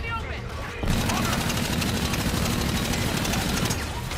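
Rapid gunfire in Call of Duty: Infinite Warfare, a dense, loud, continuous rattle that kicks in after a brief quieter moment and runs to the end.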